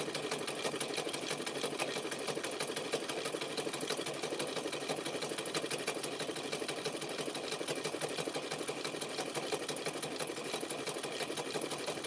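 A skinny-nosed sewing machine runs without a break, stitching fabric-wrapped clothesline rope into a cup shape. Its dense, even whir holds close and loud for the whole stretch.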